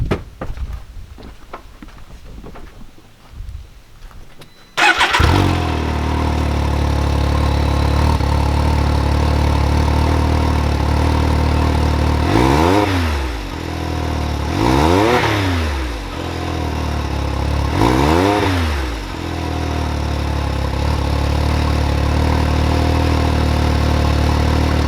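A Can-Am Maverick X3 with an aftermarket exhaust fires up and settles into a loud, steady idle outdoors, with three brief throttle blips rising and falling partway through, close and alone without talk.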